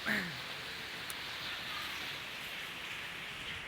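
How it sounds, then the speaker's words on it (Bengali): Rainwater pours down from a roof as a steady, even hiss of falling water that holds constant for the whole stretch. "এই যে পানি পড়ছে আমাদের ছাদ থেকে, আমাদের ছাদে ওই যে পানি পড়ছে"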